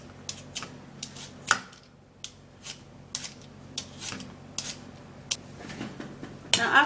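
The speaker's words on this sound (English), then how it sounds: "we're going to first of all peel the potato" A potato being peeled, giving a series of faint, crisp scraping clicks at an uneven rhythm, with quiet gaps between strokes and a slightly louder cluster near the end.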